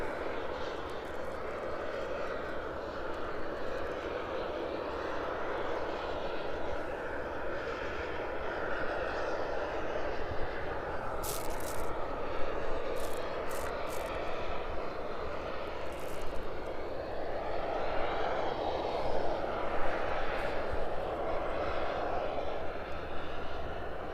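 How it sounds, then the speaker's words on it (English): A Boeing 757 jet lands at an airport and roars with reverse thrust, a distant, steady broad rumble that swells slightly toward the end, with faint talk in the background. "There we go, the reverse thrusters there on the 757."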